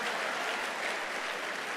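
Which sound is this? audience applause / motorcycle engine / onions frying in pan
audience applause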